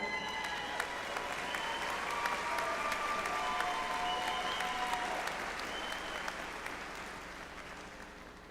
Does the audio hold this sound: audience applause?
yes